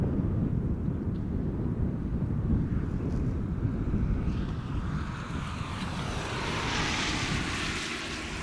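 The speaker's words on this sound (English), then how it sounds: "The 777 on the downwind leg arriving from Rio de Janeiro" A KLM Boeing 777 airliner on the downwind leg into Amsterdam Schiphol, arriving from Rio de Janeiro, gives a steady distant jet rumble with wind buffeting the microphone, swelling into a broader high whine toward the end.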